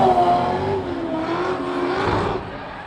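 A BMW M3 drift car's engine revs and drones at a motorsport show in Luxembourg, a strong rising and falling engine note that fades slightly toward the end.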